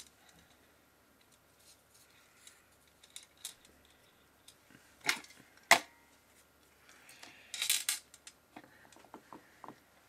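Paper being cut for a vintage roses greeting card, with faint scattered snips and rustles, then a few sharper clicks and a brief rough rustle, close and quiet, no speech.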